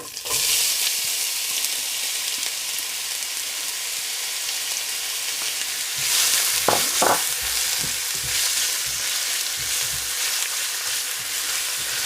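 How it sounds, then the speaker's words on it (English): Onions and whole spices fry in a pan over medium heat, a steady close hiss and crackle throughout, with a few brief utensil knocks partway through. "we're going to fry the onions until they're nicely light brown in colour"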